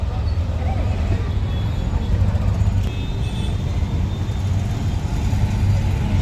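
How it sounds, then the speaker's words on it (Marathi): Rainy-day city traffic near Tulshibaug in Pune, a constant broadband wash of engines and wet tyres, loud and close, with a voice talking over it. "ट्रॅफिक वाढलेली आहे"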